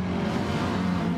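A McLaren race car's engine at Tsukuba circuit during a 2019 NTT race, a steady loud droning roar held briefly with no voices over it.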